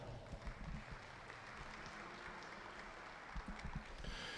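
Applause for junior showmen in the ring at a regional Hereford cattle show, a steady, distant wash of crowd clapping that holds evenly throughout.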